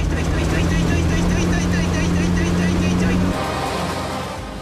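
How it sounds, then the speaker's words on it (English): A Volkswagen Iltis rally car on the Le Jog winter rally through Britain ploughs through floodwater, its loud, steady engine drone wrapped in a broad rush of spraying water that abruptly thins after about three seconds and then fades. "Their Volkswagen Iltis plows through the flood."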